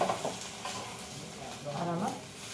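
A pizza paratha roasts on a pan over a high gas flame, giving a steady close sizzle with a few soft scraping stirs, moderately loud and continuous throughout.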